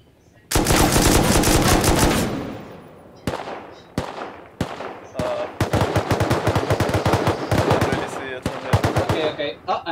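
Rapid automatic gunfire bursts in a video game shooter, a long loud sustained volley followed by clusters of sharp shots, close and dominant with little else audible.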